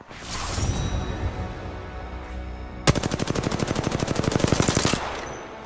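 Apex Legends gunfire: a burst of rapid automatic fire, about two seconds of evenly spaced loud shots, following a quieter stretch of scattered game noise.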